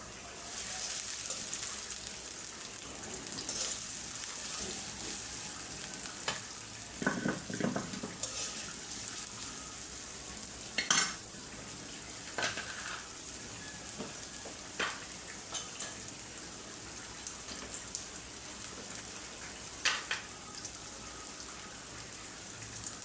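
Plenty of green chilies frying with onions in oil in a wok, a long steady sizzle broken by scattered sharp crackles and spatula scrapes, moderately quiet throughout with no talking.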